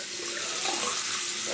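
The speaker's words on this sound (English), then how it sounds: "I'm gonna wet my face up." Water running from a bathroom tap into a sink while a face is wetted before a wet shave, a steady close splashing stream.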